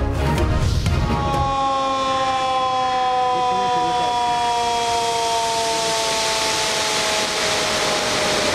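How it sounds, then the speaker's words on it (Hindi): Warning sirens sound at Rawal Dam in Islamabad before the spillways open after torrential rain. A brief low rumble gives way to a loud, steady wailing tone that holds to the end. "स्पिलवेज खुलने से पहले सायरन बजाए गए।"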